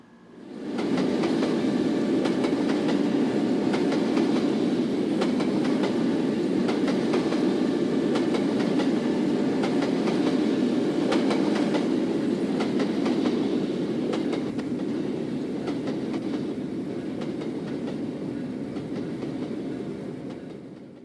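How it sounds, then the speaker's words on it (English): A mixed freight train with a BNSF AC4400CW locomotive rolls steadily past, a loud, continuous rumble of railcars with clickety-clack wheel noise that holds for the whole span and eases only slightly toward the end. "With a BNSF AC 4400 CW second out, the train makes its way onto the Gregsville sub."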